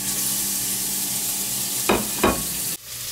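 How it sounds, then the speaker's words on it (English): Two chopped medium onions frying slowly in a little grapeseed oil make a continuous close sizzle, with two brief stirring scrapes near the end before the hiss drops. "Put it in there and let it slowly fry."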